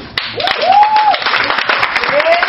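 A church congregation applauds with loud, dense clapping and cheering, while a voice calls out over the applause.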